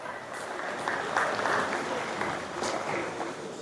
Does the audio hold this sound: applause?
yes